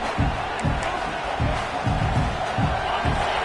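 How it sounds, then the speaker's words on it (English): A football stadium crowd at a Clemson versus Texas game roars in a dense, continuous wall of noise, with rhythmic low surges of chanting and cheering throughout. "The roar of the crowd trying to fuel this defense to keep them pinned in their own end."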